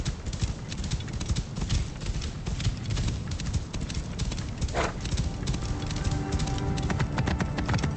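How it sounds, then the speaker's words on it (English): A camel ridden in a video game set around the pyramids of Giza plods along with steady, rhythmic hoofbeats that continue throughout at moderate volume, with a brief whoosh partway through. "You can also ride camels in this game."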